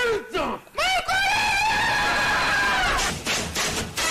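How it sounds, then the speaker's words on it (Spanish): A loud, sustained scream bursts out after a brief shout, holding high and strained for about two seconds before breaking off into rough, noisy vocal bursts. "Hostia, qué grita ha pegado."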